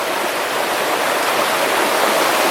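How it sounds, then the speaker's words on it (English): Creek water flows steadily beside an old placer mine where rock piles are scattered across the hillsides, a close, continuous broadband rush with no pauses and no voices. "an attractive creek here outside of the mine"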